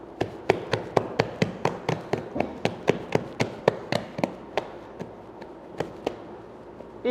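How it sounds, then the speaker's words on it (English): Hands press and knock baguette dough to degas it, producing about twenty sharp, evenly spaced dull slaps and taps, close and fairly loud, which grow slightly softer and sparser toward the end. "I want to knock some of the carbon dioxide out of the dough"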